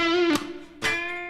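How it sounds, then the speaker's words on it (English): A PRS Zach Myers SE electric guitar with low-output pickups rings out a sustained clean note, then a second strum attack near the end, heard alone and fairly close. "So what you're hearing here are low output pickups."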